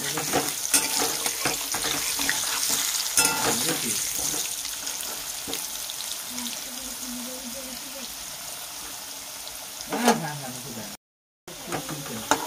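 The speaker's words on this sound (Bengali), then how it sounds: "আলু ভাজা হয়ে গেছে, তুলে দেবো" Potatoes fry in a pan and are stirred, a soft continuous sizzle with scraping and occasional clatter, while people talk nearby and water runs briefly in the background.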